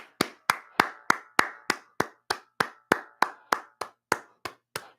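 People clap in a slow, evenly spaced rhythm, about three sharp claps per second, each crisp and close with a short ringing tail, heard alone without talk.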